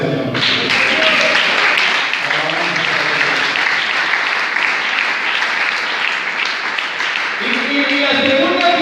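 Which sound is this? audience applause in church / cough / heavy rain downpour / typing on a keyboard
audience applause in church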